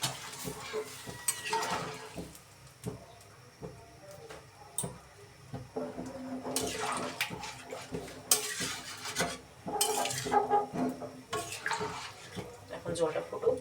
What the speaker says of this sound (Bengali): এর মধ্যে দিয়ে দিব আমি এখন জল,